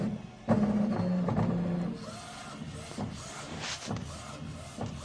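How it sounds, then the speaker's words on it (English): A UV printer lays down white ink, a steady mechanical whir with a sliding print-head rumble that is louder at first and then settles into a lower, continuous hum. "So this is the way the machine start to print white ink first."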